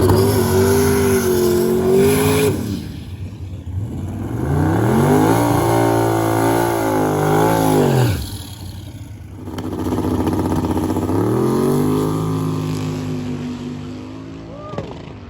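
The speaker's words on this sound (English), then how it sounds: "The Oldsmobile and the D150. Twin turbo, dude. That thing's sick." Twin-turbo Oldsmobile and Dodge D150 drag racing at a test-and-tune session, loud engines revving and accelerating in long rising pulls with short gaps between runs, close and dominant throughout.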